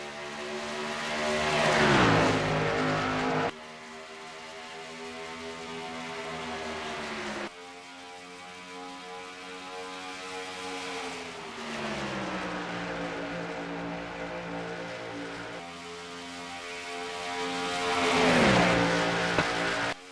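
Racing trucks in a video game of the Menard's Truck Series at Darlington, engines droning steadily as the pack runs in single file, with louder roaring passes rising near the start and end.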